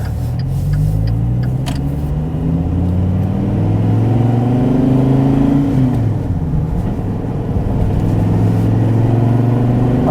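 A 2014 SRT Viper GTS engine accelerating hard from inside the car, a loud rumbling mechanical roar with rising and falling pitch as it revs through the gears, continuous and without talk.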